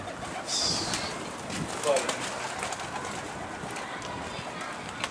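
A pigeon flying overhead outdoors during a tumbler pigeon flight, with a brief coo and faint wing sounds amid steady open-air background noise, while people talk nearby.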